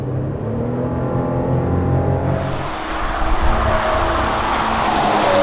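Steady engine drone and road rumble from inside a 2019 Chevrolet Colorado pickup truck cruising at speed, rising slightly as it accelerates, loud and continuous.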